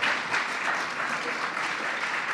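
Audience applause at a New Year's Eve education talk, a steady, dense clapping from a crowd that fills the whole stretch without pause.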